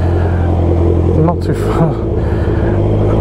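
A Honda CB650R motorcycle's engine drones steadily while the bike is ridden at night, a close, continuous low hum that stays constant throughout, with a rider briefly speaking over it.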